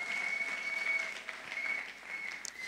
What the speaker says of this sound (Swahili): pigie Yesu makofi mengi